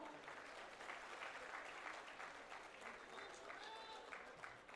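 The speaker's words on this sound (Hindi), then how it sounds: "मैडम पूजा सिंघल मैडम का तालियां आपकी तरफ से जरूर हो।" Audience applause at a government ceremony in Ranchi marking appointment letters being handed out, a steady patter of clapping from a crowd heard at moderate distance for several seconds.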